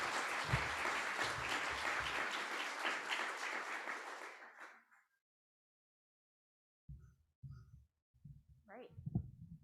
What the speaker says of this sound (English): Please give Mitra a round of applause.